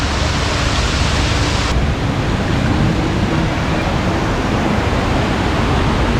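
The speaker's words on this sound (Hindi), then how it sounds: "ये देख सकते हैं वाटरफॉल का पानी यहाँ पे आ रहा है।" Ravana waterfall in Ella, Sri Lanka, rushes loud and constant in light rain, a dense unbroken roar of falling water close by with no voices.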